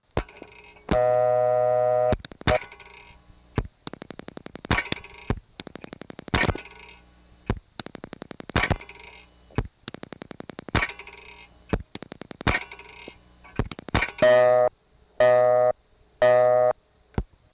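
Telephone line sounds from a step-by-step exchange in New Tripoli, Pennsylvania, in 1976: clicks and dial pulses, steady tones, and repeated on-off busy-style bursts, clear and close, with no talking.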